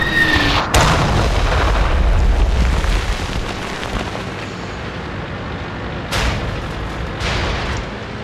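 Howitzer shells in a tank video game: a loud, close boom and rumble right at the start, then several softer blasts and rolling explosive noise throughout.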